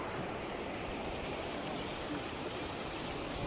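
The Kaveri river flows past the bathing ghat at Srirangapatna, a steady, close broadband rush of moving water that holds even throughout with no voices.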